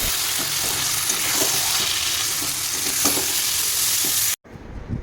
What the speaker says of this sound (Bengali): তো এবার এদিক ওদিক নাড়িয়ে চিকেনটাও দিয়ে দেবো।